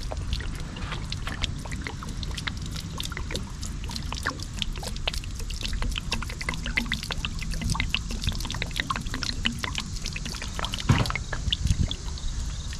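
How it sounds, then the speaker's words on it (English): Dirty water gurgles and pours steadily out of a steam cleaning machine. It makes a continuous, close, rushing trickle with small splashy bursts and no talking. "Wanna watch some dirty water gurgling?"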